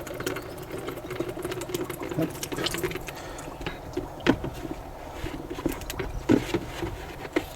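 Engine oil from an Iveco Daily 2.3 HPI van pours and patters into a bucket, a continuous close liquid splatter with irregular drips and knocks.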